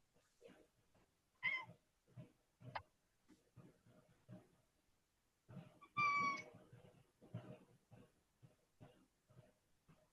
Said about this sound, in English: Is someone meowing?